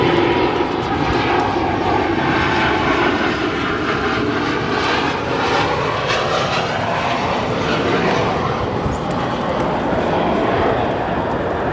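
An American Airlines jet, about six years old, landing at O'Hare International Airport: a loud, sustained engine roar with shifting whine and rumble, steady throughout and near, with no voices.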